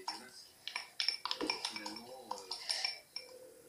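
Metal spoon and fork scraping and clinking against a container while stirring a failed batch of homemade slime, with irregular taps and scrapes under a person talking throughout.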